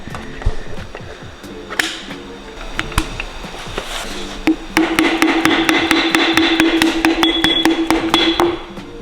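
A hammer taps a piston into an engine cylinder repeatedly, sharp ringing strikes at a steady quickening pace, with a sustained metallic hum building in the second half.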